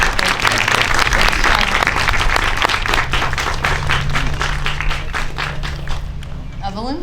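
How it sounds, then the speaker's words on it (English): Audience at a high school band spring concert claps steadily and loudly throughout, a dense wash of hands with a low hum beneath, tapering slightly at the end. "Clap for Sean."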